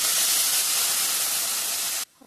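Water hits frying spices in a hot pan for a potato and plantain curry, producing a loud, steady steaming hiss that cuts off abruptly near the end.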